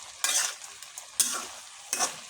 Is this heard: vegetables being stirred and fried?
yes